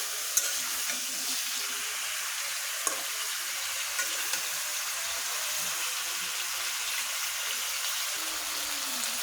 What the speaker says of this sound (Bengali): আমি মুরগিটা এভাবে ভেজে নিচ্ছি